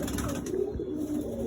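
A pigeon coos low and steady, close and fairly loud, over a constant hum of room or outdoor background noise, with no talking.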